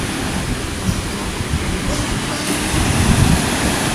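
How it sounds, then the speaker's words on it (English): Ocean waves at a beach in Presque Isle State Park, a loud steady roar of surf that swells slightly toward the end, with no talking. "He keeps getting hit with waves."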